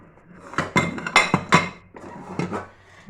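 A pot of soaked chickpeas is set down on a home stove to boil, giving several sharp metallic clanks and clatters in irregular bursts, close and fairly loud, with no talking.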